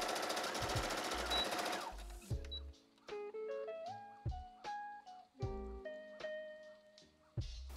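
A sewing machine stitches dress bodice pieces together in bursts of rapid mechanical whirring, close and clear, separated by short pauses and clicks, with music playing underneath.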